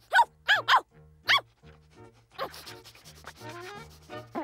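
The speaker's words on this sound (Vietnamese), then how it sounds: "chó con đánh hơi thấy gì đó" A cartoon puppy in a Smurfs episode sniffs in quick, sharp bursts: a cluster of short snuffles, then a pause and a softer, scratchy run of sniffing sounds.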